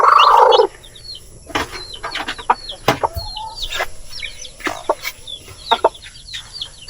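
Small farm chicks or fowl clucking and peeping in repeated short calls, fairly close, with a louder burst of clucking at the start and scattered bird sounds throughout, no talking.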